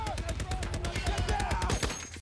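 Gunshots from the World War II film Fury, a rapid machine-gun burst of sharp, evenly spaced cracks, loud and close, running steadily for about two seconds with faint shouting mixed in.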